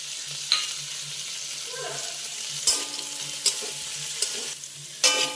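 Potato pieces frying lightly in a pan as chopped carrot is added, a steady sizzle under repeated metal stirring scrapes and clinks at intervals.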